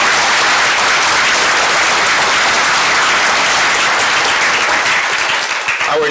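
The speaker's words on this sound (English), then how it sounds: "let's give them a round of applause." Sustained, loud applause from an audience at a volunteer recognition ceremony, steady dense clapping that fills the whole stretch without a break.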